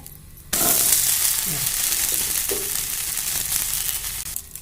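An onion dosa drizzled with oil on a hot pan erupts abruptly into loud, steady, hissing sizzling that holds for several seconds and then cuts off, heard close up with no talking.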